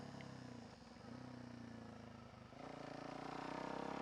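A supermoto motorcycle ridden along a street, its engine a steady droning hum that dips briefly and then builds louder toward the end, heard fairly close with no talking.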